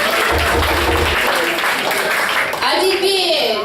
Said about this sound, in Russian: Еще раз аплодисменты Яны.